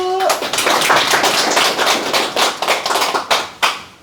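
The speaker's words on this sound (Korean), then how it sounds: "권태진 대표님 모시고 한 말씀 들어보도록 하겠습니다. 박수!" Audience applause for a company CEO at a corporate lecture, dense clapping from a room of listeners, a brief tone at the start, then the clapping thins into a few loud final claps.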